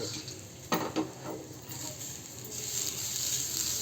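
Grated coconut hisses softly in a hot pan while a spoon scrapes through it a few times, the sizzle growing steadier toward the end.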